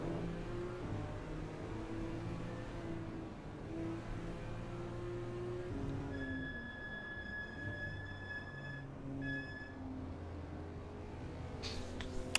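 Camaro and Mustang GT4 race cars lapping Sonoma in the Assetto Corsa racing game: a low, steady engine drone with a thin, high gear whine that rises and fades midway, all fairly faint.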